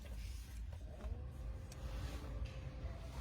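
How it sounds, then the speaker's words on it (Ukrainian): A 2019 Nissan Juke with a 1.6 engine idles steadily in a dealership, a low, even engine hum running throughout with no talk. "Запускаємо. Як бачимо, двигун працює"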